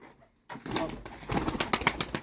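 Domestic pigeons in a village loft coo and rustle close by, a short burst of soft throaty calls and fluttering with no voices.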